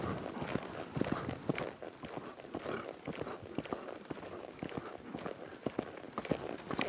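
Horse hooves clop steadily on the ground at a walking pace while the rider works cattle on horseback; the hoofbeats are fairly faint and continuous, with no talking.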